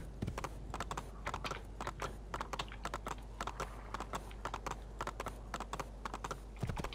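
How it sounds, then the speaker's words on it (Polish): Horse hooves gallop at a steady rapid beat in Assassin's Creed 2, a continuous rhythmic clip-clop of a horse ridden toward a town, loud and close, with no talk over it. "wjadę koniem do miasta"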